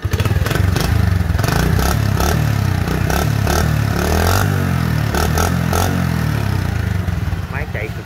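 An Econo 70 motorcycle engine idles and revs close by with a steady mechanical chug, mixed with some clattering, while someone talks over it.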